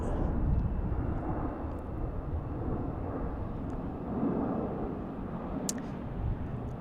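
A Qantas airliner on the runway at Salt Lake City airport makes a continuous low jet-engine roar, steady and moderately distant, with no talk over it.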